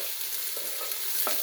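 Onion sizzling in hot oil, a steady close hiss and crackle with a couple of soft stir clinks, no talking.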